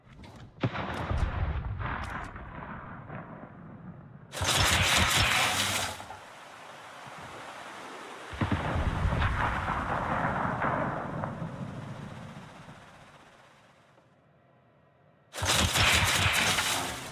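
Heavy warship gun salvos boom in World of Warships naval combat, with loud broadband blasts near the start and at about 4 and 15 seconds, separated by rumbling roars and sustained explosive rumble.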